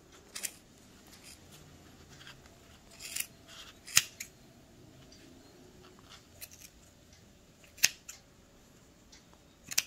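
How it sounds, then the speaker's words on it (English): Scissors snip through the yarn loops of a handmade pom-pom, giving scattered crisp cuts and a few sharper clips with quiet pauses between them, close and soft. "And then you just bring in your scissors and go under your loops"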